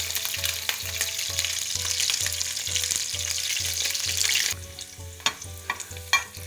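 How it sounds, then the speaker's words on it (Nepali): Cauliflower fries in hot oil, a loud, dense sizzle with a steady low rhythmic thump beneath; about two-thirds through, the hiss thins and a few sharper clinks and stirring knocks stand out. "अब म यो काउलीलाई फ्राई गर्दैछु।"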